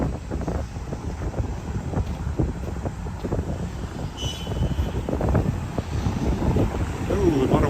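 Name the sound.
strong wind outdoors on a cold street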